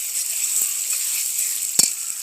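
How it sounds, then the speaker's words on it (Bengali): Homemade tomato sauce going into a pan of frying country chicken, a steady sizzle that runs throughout, with a single brief clatter near the end. "দিয়ে দেবো টমেটো সস"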